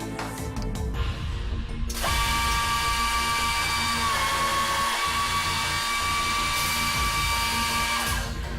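A GANNOMAT Pro Line 50 multiple drilling machine with two drilling modules runs a cycle, a loud steady mechanical whine and drone starting after a brief clatter, lasting several seconds at close range with no speech.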